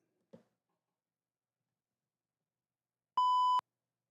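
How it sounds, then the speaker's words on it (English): A single clean electronic beep from a soundboard button, a steady tone lasting under half a second after a faint click, otherwise silence. "That's the beep."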